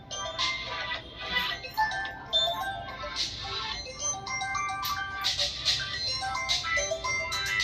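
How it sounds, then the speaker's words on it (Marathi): A phone ringtone plays a bright, repeating chime-like melody at moderate volume, with no voices over it. "मला फोन आला"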